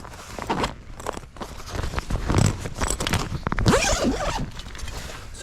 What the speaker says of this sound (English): I'll unzip it so we can see it.